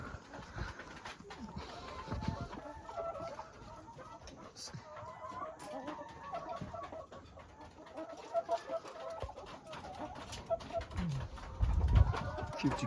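Chickens on a small farm in Ukhrul district cluck and coo softly amid faint barnyard bustle, a few birds at a distance with occasional rustling and knocks.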